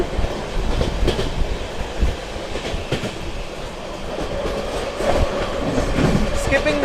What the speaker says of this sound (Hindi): ट्रेन अपनी स्किप करने जा रही है मिर्जापुर